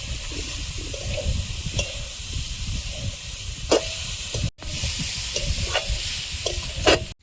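Small chuno fish fry and sizzle in a pan, a loud continuous hiss close up, broken by intermittent clanks and scrapes of stirring and a brief cut midway, with no talking.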